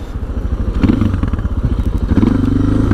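A Suzuki DR650 motorcycle engine idles loudly nearby with a deep, throbbing, uneven putter, steady throughout with no voices.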